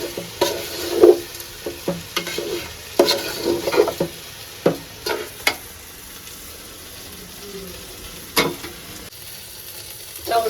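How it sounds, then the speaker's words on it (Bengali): Rice fries with biryani spice in a pan as repeated stirring scrapes and clatters break over a low sizzle, with clustered knocks early on and quieter stretches in between. "এটা দিয়ে চাউল একটু ভেজে তারপরে মাংসটা দিয়ে দেবো"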